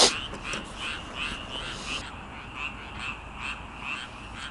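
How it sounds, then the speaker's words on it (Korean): Frogs croaking in a steady, repeating rhythm at night beside a fishing pond, a chorus of pulsing calls at moderate distance with no other sounds. "개구리만 울고 조용합니다."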